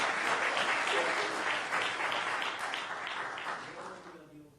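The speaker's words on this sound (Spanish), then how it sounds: "Denle un aplauso al que vive" Church congregation applauding during a missionary worship service, a dense, sustained wash of clapping that stays loud and fades toward the end.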